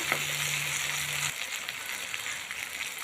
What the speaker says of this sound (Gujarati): હવે આપણે પનીર નાખીશું।